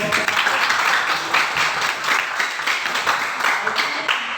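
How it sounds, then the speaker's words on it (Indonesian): A classroom audience applauds a group after its presentation, with a steady burst of many hands clapping throughout, close and fairly loud, with a few voices mixed in. "Kita beri aplaus dulu untuk"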